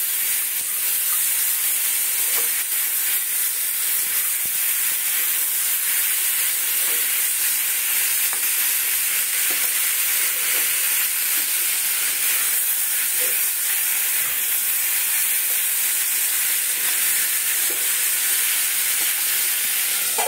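Cauliflower curry sautéing in a pan for the season's first cauliflower dish, a steady hissing sizzle with faint stirring scrapes, close and continuous throughout.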